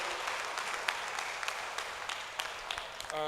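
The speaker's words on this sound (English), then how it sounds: "You should give yourself a big hand of applause for being Ke here" Audience at a railway safety bill public hearing in Botshabelo applauding, a dense steady patter of many hands clapping that breaks off into a brief voice at the end.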